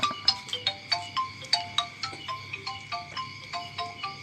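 A mobile phone plays a ringtone: a bright, repeating melodic pattern of plucked, bell-like notes in a steady rhythm, close and clear, with no talking over it.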